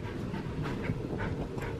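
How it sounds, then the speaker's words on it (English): A dog pants rapidly and rhythmically close by, a quiet, breathy huffing repeated through the clip against a low background rumble. "look at this crazy dog"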